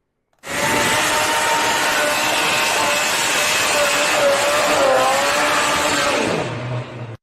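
A stripped race car on full slick tires, with Lexan windows, no bumper and a bell intake, does a smoky burnout. Its engine holds a loud, sustained roar with screeching tires for several seconds before it cuts off.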